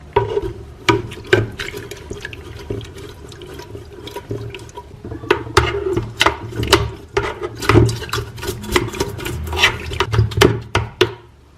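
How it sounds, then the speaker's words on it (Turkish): A brush scrubs limescale off the base of a kettle, without detergent, in rapid repeated strokes: a series of close, gritty bristle scrapes with watery sloshing, some bursts quick and clustered, others spaced apart. "Bunu da hiç deterjan kullanmadan şimdi fırçayla temizleyeceğim."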